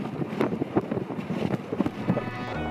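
Strong gusty ocean wind in Iceland batters the microphone in uneven thumps and rumbles, a close, blustery roar with no speech.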